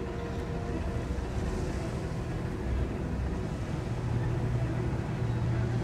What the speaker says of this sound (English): Wait for this wind to die down.